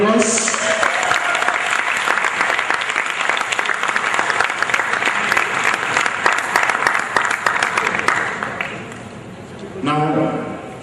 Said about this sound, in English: So do you think the audience a big round of applause?